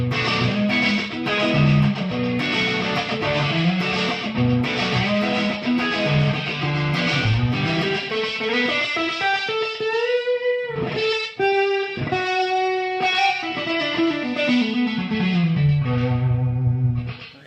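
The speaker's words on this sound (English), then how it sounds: "Let's throw some distortion in front of it." An electric guitar played through distortion placed ahead of an Echoplex tape echo gives a thick, saturated tone with sustained chords and a run of ringing notes that trail off in repeats, loud and continuous with no talking.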